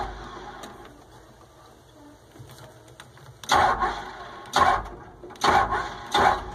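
Cummins engine on a Gradall cranked by its starter in repeated loud, close bursts of whirring churn, each lasting under a second, after a quieter stretch of low hum.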